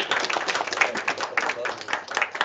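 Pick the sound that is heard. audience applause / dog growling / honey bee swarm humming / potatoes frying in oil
audience applause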